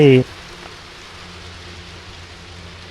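Heavy rain in the video game Last Day on Earth, a steady dense hiss that carries on evenly after a short burst of voice at the start.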